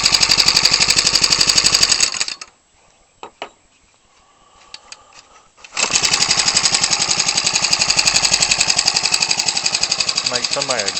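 A Ryobi 29cc four-stroke engine for a radio-controlled aircraft, running on 93-octane fuel with two-stroke oil mix, roars loudly and steadily up close, cuts out for a few seconds with scattered clicks, then restarts and runs hard again.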